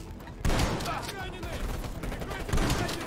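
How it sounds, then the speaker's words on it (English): Shotgun blasts from the Black Ops Cold War campaign fire in a loud burst, first near 0.5 s and again around 2.5 s, over a dense layer of battle noise and gunfire. "Shotgun time."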